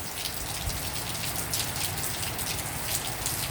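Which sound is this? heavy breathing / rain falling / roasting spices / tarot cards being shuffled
rain falling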